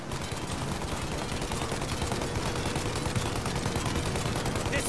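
Rapid sustained gunfire aimed at a plane's engines during a shootout in Mafia: Definitive Edition, a dense unbroken stream of shots filling the scene at close range, with no talk over it.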